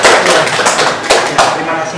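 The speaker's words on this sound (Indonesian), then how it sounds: "Tepuk tangan dong." Many participants at a positive-discipline teacher training session clap their hands together in a dense, steady round of applause that fills the whole moment, close and fairly loud.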